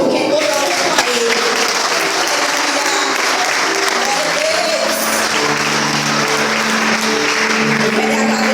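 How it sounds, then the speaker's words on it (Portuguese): A church congregation at a congress applauds, a loud, sustained wash of many hands clapping together, with voices and musical tones rising underneath toward the end. "aplauda o Senhor, porque toda hora é para Ele"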